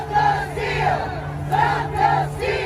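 A crowd of rioters at the Capitol roars and chants in repeated swelling waves of shouting, loud and continuous with a steady low hum underneath.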